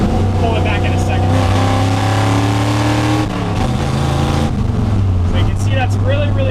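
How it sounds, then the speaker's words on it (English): Ford F100 pickup with a Tremec 5-speed manual, engine revving loud and close in the cab as the driver double clutches between first and second, a droning engine tone that dips and rises again as the rpm shifts. "I have to double clutch it, go up towards first, rev it up, pull it back into second."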